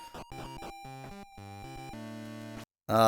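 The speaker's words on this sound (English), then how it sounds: "That's the sound of moving between screens in this dimension." Dark Eyes: Battle Gate video game screen transition sound, a short sequence of stepped synthetic tones with rising pitches, played alone, ending in a brief silence and a bright burst.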